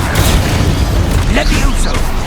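A Confringo fire spell blast in Hogwarts Legacy, a loud booming burst with rumbling low end over a couple of seconds, with a voice talking over the combat sounds.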